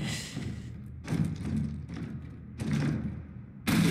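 Heavy door bursting open in Resident Evil 2, heard as repeated loud thuds and bangs spread over a few seconds against a dark game ambience, with no talking.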